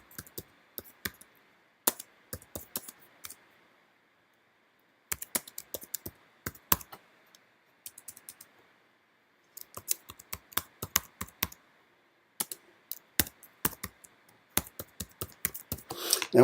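Title text being typed on a computer keyboard in bursts of quick, crisp key clicks separated by silent pauses, close and fairly quiet.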